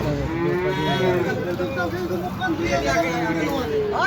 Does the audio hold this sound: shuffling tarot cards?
no